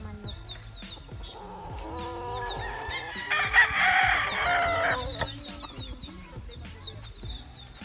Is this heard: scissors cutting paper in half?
no